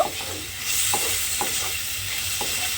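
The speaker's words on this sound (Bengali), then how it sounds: "পেঁয়াজটা দিয়ে আমি কিন্তু আবারও খুব ভালোভাবে একটু মিশিয়ে নেব" Cubed onions fry in a hot pan, giving a continuous sizzle broken by several scraping stirs of a spoon at a regular pace, close and fairly loud.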